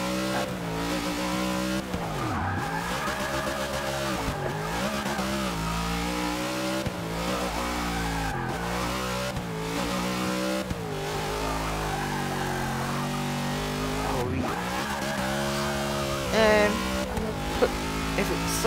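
A 1970 Chevrolet Chevelle drift build in Forza 6, engine revving and wailing through gear changes while tires squeal in long slides, continuous and loud with repeated rises and drops in pitch.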